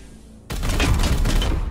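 Rapid burst of gunfire from the Warhammer 40k: Chaos Gate – Daemonhunters video game, a loud, dense volley that begins abruptly and rattles on continuously.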